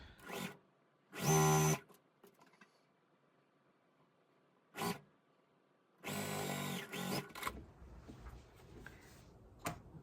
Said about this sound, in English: let's get the other part sewn on